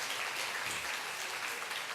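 Soft, distant applause at a church ceremony, a steady wash of clapping from a congregation that stays even for the whole stretch.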